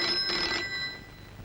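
An old telephone bell rings in a home, a bright trilling burst lasting about half a second that then fades, heard alone without talk.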